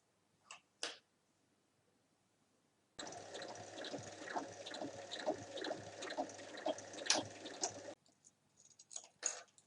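A sewing machine stitches along the edge of a fabric handbag at 1 mm, a steady fast mechanical whir with rhythmic clicking that runs for about five seconds, bracketed by brief handling taps before and after.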